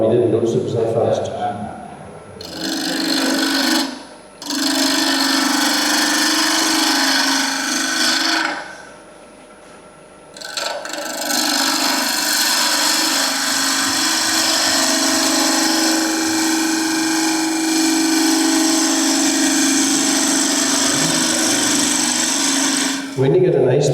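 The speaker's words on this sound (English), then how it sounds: "I did turn the lathe off and back on" A wood lathe runs at a woodturners' club session, with a loud, close, raspy cutting and rubbing sound that pauses twice briefly before resuming. Voices are heard at times.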